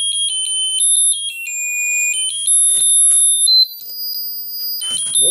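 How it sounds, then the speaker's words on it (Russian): A tiny piezo buzzer inside a wristwatch plays a shrill electronic melody, a string of thin, high stepping tones, loud and close with brief pauses between phrases. "вот в этой таблетке, тот самый пьезоэлемент."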